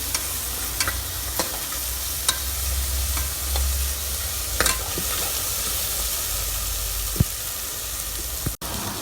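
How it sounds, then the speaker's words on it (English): Ginger and garlic stirred into frying onion for beef curry, a steady low sizzle with occasional scraping clicks of a utensil against the pan, close and even throughout. "Add the ginger and garlic and mix it that one also well."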